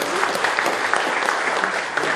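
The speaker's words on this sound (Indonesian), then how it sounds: "Kita beri aplaus untuk beliau" Dense, steady applause from an audience greeting Jakarta's deputy governor Basuki T. Purnama at a reception for Reform Leader training participants; loud and continuous throughout, with no break.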